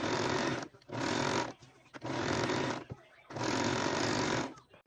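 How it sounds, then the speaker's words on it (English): A sewing machine stitching car seat cover fabric runs in four loud, steady bursts of whirring, separated by short pauses, close up. "Gonna sew that all the way down."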